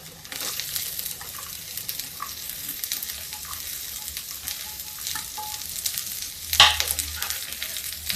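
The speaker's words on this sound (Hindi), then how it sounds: "प्याज भी भूनते हैं।" Onions frying in a pan after garlic and green chillies, a steady close sizzle with occasional stirring scrapes and a brief louder clatter near the end, with no talking.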